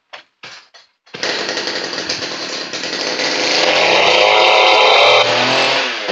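A few short pulls on the starter, then a JCK petrol chainsaw roars to life and runs loudly up close, its buzzing whine rising and holding.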